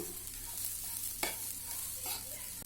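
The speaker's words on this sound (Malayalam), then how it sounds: "ഇനി ആ പയറും തേങ്ങയും കൂടി ഒന്ന് മിക്സ് ചെയ്ത് കൊടുക്കണം" Green gram and coconut being stirred in a hot pan: a quiet steady sizzle with a few sharp spoon scrapes and clicks against the pan.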